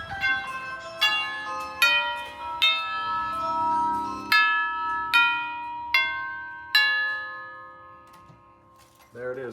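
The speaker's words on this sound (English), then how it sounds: "There it is, the 8-note Westminster chime, just like Big Ben." A Craftmade mechanical doorbell chime rings the 8-note Westminster melody: eight clear struck tones spaced about a second apart, each ringing and decaying, loud and close, followed by a short clunk at the end.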